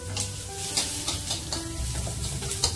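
Mustard seeds sizzle and pop in a little oil in a pan on a home stove, a steady crackling fry with scattered sharp spits and stirring scrapes, close and moderately loud.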